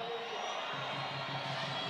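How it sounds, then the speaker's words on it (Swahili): Large rally crowd in Arusha cheering and whooping continuously, a dense, steady roar that fills the whole moment without a break. "Hebu nione shangwe ya jiji la Arusha."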